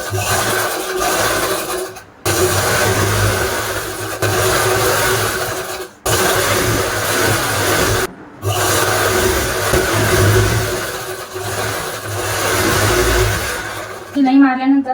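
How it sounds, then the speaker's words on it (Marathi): A sewing machine stitches a folded blouse-piece fabric edged with lace, its motor running in loud, continuous bursts broken by short pauses between seams. "त्यावर आपण शिलाई मारून घेणार आहोत"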